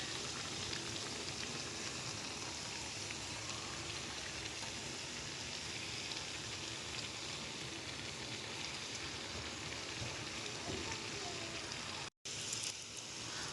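Doughnuts frying in hot oil in a pan give a steady, dense, rain-like sizzle that holds evenly throughout, with one brief dropout near the end.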